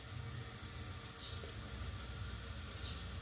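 Water runs steadily into a small toilet tank of about two gallons, a faint, continuous trickling fill with a light splashy texture and no speech.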